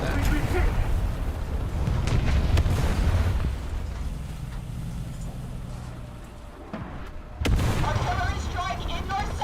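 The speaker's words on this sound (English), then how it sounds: "Artillery strike in your sector!" An artillery strike in the War Thunder tank game, with heavy rumbling explosions and booms that ease off midway, then a sudden loud blast that brings back the roar. A voice speaks over the barrage.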